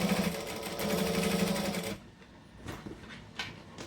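A sewing machine stitches a fabric camera bag in a steady, fast mechanical whir for about two seconds. Softer handling noises follow as the bag is moved.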